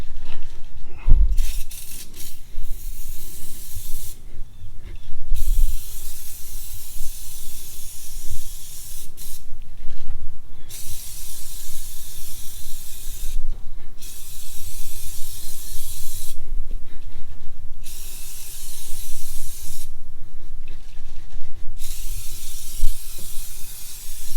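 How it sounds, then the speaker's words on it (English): Armor All tire foam sprays from an aerosol can across a car engine bay, loud close hissing bursts of several seconds each with brief pauses between, repeated about five times. "Let's shake it up and give it some sprays."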